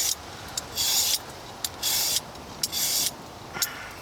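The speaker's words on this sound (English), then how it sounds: "So, just gonna grate some carrots." Carrots grated by hand on a grater outdoors at a camp, heard as four rhythmic rasping strokes separated by short pauses, close and fairly quiet.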